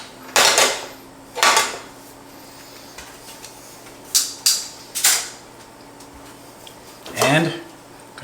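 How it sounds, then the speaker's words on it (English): A metal pan is set down on a kitchen stove top, giving a series of sharp clanks and knocks spaced across several seconds, close and fairly loud against a quiet room. "get this pan on"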